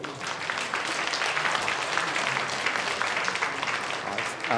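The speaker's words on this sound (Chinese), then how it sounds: "我们拍手来欢迎" A church congregation at a Sunday service claps together in sustained, even applause that fills the room, loud and continuous from start to finish.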